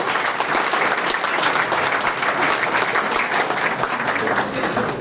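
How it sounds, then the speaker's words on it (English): Audience applause at a company banquet, a roomful of people clapping steadily and densely for several seconds with no break. "So a big round of applause for all the Patax and everybody working here tonight."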